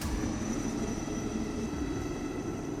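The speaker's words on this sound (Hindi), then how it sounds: "जवानों को लेकर हेलीकॉप्टर ने उड़ान भरी।" Military helicopter lifting off with soldiers aboard during flooding in Jammu, a steady loud rotor and engine roar that holds constant throughout, close by, with no voices.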